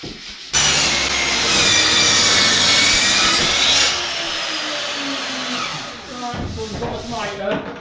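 A saw cuts a mitre on a wooden skirting board, rasping loudly and continuously for several seconds close by. It then drops to quieter scraping and handling noises.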